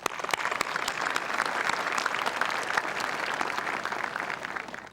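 Audience at a 2013 South St. Paul high school graduation ceremony applauding in a large hall, a dense, sustained clapping that holds steady for several seconds before fading at the very end.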